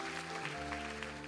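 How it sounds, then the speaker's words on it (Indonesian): A church congregation applauding during a sermon, giving a brief, dense burst of clapping heard at a distance. "Yang setuju, tepuk tangan yang meriah bagi Tuhan Yesus."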